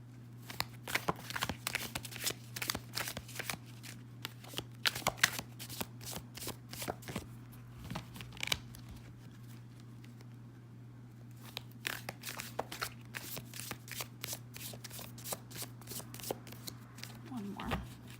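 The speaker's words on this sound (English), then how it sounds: "I'm going to go ahead and pull one more clarifying card" Tarot cards are shuffled in repeated crisp riffling bursts for a pick-a-card reading, close and clear over a low steady hum, with a short pause midway.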